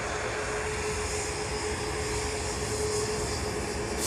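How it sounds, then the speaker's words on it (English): A brand-new Ryanair Boeing 737 MAX 8-200 jet arriving from the Boeing factory, a steady broad engine roar with a faint sustained whine, heard at a moderate distance with no voices. "This Ryanair is coming in from Seattle."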